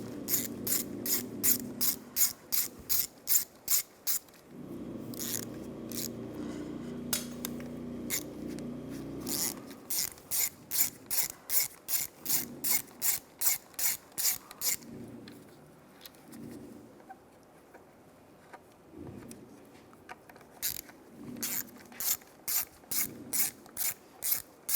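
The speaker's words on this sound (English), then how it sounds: "Now we're going to remove the slave cylinder and bearing. Use a T30 socket. There's 3 bolts around here." A ratchet fitted with a T30 socket loosens the slave cylinder bolts on a 2005-2010 Chevrolet Cobalt during a clutch replacement, sounding as close, rapid runs of clicking in repeated bursts with brief pauses and some rubbing between them.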